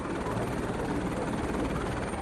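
A passenger helicopter flying from Jammu to Vaishno Devi drones with a loud, steady rotor and engine roar that runs unbroken throughout.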